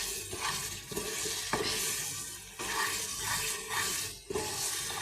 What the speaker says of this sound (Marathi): बरी भाजून घेऊया तितून मसाल्यान.